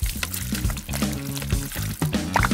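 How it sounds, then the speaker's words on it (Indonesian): Thick clear glue pouring in short, uneven glugs and trickles into a phone case, close up and fairly quiet. "Tuang lem bening ke dalamnya."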